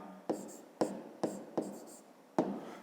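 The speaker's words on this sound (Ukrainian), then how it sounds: "і пишемо, які в нас є сторони трикутника" Pen writing triangle side labels on paper, five quick close scratchy strokes spaced evenly with short pauses between them.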